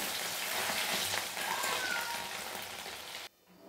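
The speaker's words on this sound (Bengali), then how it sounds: "তো লাল লাল করে আমি ভেজে নামিয়ে নেব।" Egg pieces frying in hot oil, a dense steady sizzle and crackle that holds close and even for about three seconds, then drops away sharply to near quiet.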